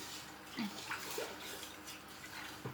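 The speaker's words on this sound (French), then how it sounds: "on va continuer à verser l'alcool" Strong homemade alcohol pours into a container during a home recipe for elderberry wine, a soft, continuous watery flow with faint gurgles, quiet and close, with no talk.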